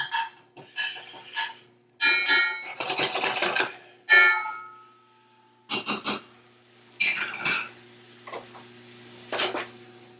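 A spoon presses and scrapes garlic and anchovy against the base of a pan for tomato pasta, making bursts of metallic scraping and clinks broken by short silences.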